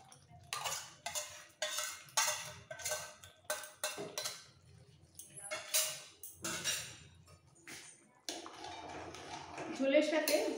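Coriander paste being stirred into a rohu fish curry with vegetables in a pot, a run of clinking, scraping spoon strokes against the metal vessel in bursts, with a voice talking over them and a lid or burner sound near the end.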